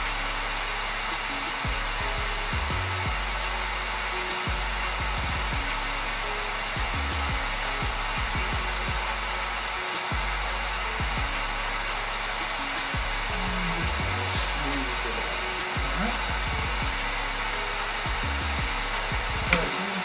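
Heat gun blowing steadily as it warms a Gunskins vinyl wrap on a Glock 19 pistol, a loud continuous airy roar with brief dips and surges as the tool is moved, running throughout with no talk.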